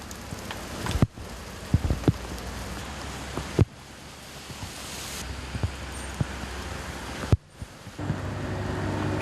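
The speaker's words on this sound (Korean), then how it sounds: "갑자기 구름이 몰려온다 싶더니 비가 쏟아진다." Heavy rain pours down steadily outdoors during a large-scale transplant of hundred-year-old pine trees, a dense hiss broken by occasional louder drips and gusts of wind, with no voices.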